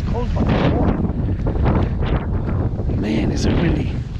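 Strong, steady wind buffets the microphone during Tropical Storm Ophelia in Ocean City, Maryland, roaring continuously throughout with someone talking over the gusts.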